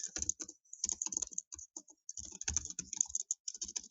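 Close, rapid tapping on a computer keyboard comes in uneven bursts of keystrokes with brief pauses, crisp and alone.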